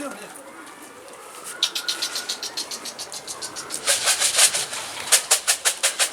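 Pigeons cooing and flapping nearby, with a run of sharp rhythmic wing claps building in bursts over a soft background, while someone talks over them.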